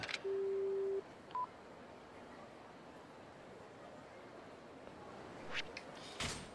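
Telephone keypad dialing tones in a Yakuza video game: a long steady tone, then a short beep, faint background hum and brief noisy bursts near the end, with no talk.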